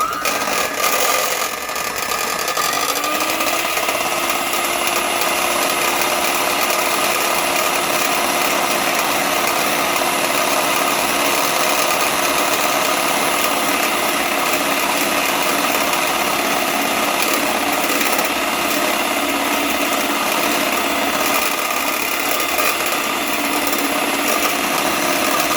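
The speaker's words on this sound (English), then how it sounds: "I use a hand mixer." A steady, high-pitched electric hand mixer motor whirs continuously and loudly while whipping dalgona coffee, with a constant droning hum and no talking.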